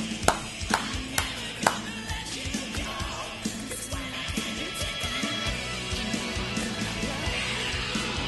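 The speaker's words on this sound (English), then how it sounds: "So you get the people clapping." People clap in a 1987 glam rock song, with a few sharp, distinct claps at the start that settle into a rhythmic pattern under the full band mix.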